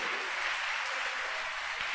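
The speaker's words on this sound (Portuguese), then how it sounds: "Pode aplaudir ao Senhor" A church congregation applauding, a faint, dense wash of many hands clapping at a distance, steady for the whole stretch with no voices on top.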